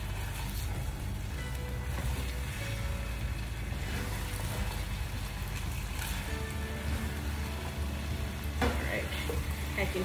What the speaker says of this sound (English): now we're going to give everything a mix. Make sure you coat all of the soya chunk pieces with our gravy